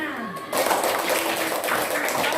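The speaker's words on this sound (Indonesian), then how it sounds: "tepuk tangan untuk kelompok 6" A classroom group applauds for a presenting team, a sudden burst of clapping that starts after a spoken lead-in and continues evenly and close.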